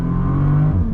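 Bentley Continental GT W12 engine pulling hard under throttle, a loud steady drone heard from inside the leather cabin, the tone holding then stepping at a gear change near the end.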